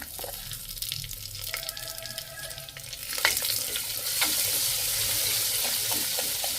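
Garlic and spice paste for mutton handi fries in hot oil with a loud, steady sizzle that swells midway as more paste goes in, stirred close by.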